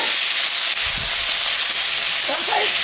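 Eggplant, okra and potato pieces frying in a pan with already-browned onion, giving a loud, dense, continuous sizzle close up that barely changes across the moment.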